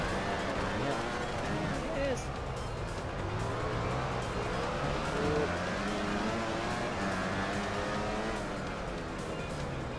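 Racing motorcycle engine in the Valentino Rossi The Game video game on the Jerez track, a continuous high whining roar that climbs in pitch as it accelerates, loud and steady throughout.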